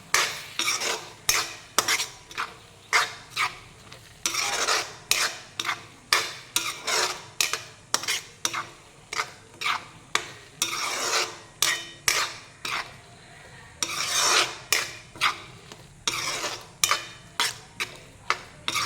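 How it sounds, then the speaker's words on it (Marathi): Masoor dal being stirred and sautéed with onion in oil, a spoon scraping the pan in steady, rhythmic strokes with a faint sizzle underneath, close and clear, no talking. "कांद्या आणि तेलामध्ये ती मसूरची डाळ छान परतून घ्यायची आहे."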